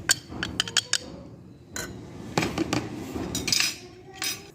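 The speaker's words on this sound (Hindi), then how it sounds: "तो इस सारे मसाले को हम अच्छे से मिला देंगे ताकि हर एक को मसाला ये लग जाए।" Utensils clink and scrape against a bowl as ground spices, coriander, cumin and black pepper are mixed into beef for a KFC-style zinger burger, a run of short close taps and clinks in a quiet kitchen.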